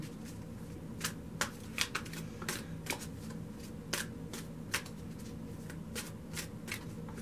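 A tarot card deck is shuffled by hand in a quick run of crisp riffling flicks and soft slaps, close by and alone, with irregular gaps between bursts.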